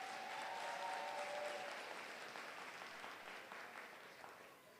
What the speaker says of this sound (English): Let's give one more round of applause to our principal, Ms. Ross.